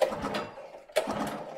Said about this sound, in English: Let's pump some fuel into the fuel bowl first.